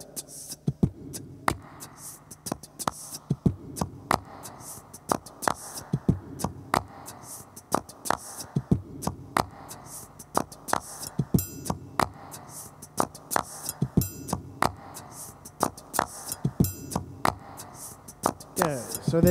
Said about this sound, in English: Now I'm just gonna add some claps to that.